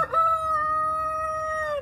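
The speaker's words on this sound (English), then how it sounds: "here are the chickens" A rooster at a chicken coop beside a vegetable garden lets out one long, loud, close crow that holds steady before trailing off.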